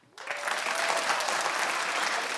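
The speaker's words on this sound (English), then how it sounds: "Clap if you smell a rat" A daytime talk show's studio audience breaks into a quick round of clapping that starts abruptly and stays dense and loud for a couple of seconds.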